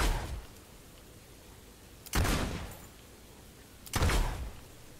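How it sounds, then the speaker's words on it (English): Gunfire from a long-range gun in the Fable II video game: three separate sharp blasts spaced a couple of seconds apart, each with a short decaying tail, fairly loud over low background noise. "look at the range in this gun"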